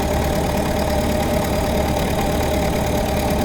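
A 1927 Ford Model T engine running while driving at nearly 30 mph on a rural road, steady loud mechanical drone and road rumble filling the whole stretch with no talk.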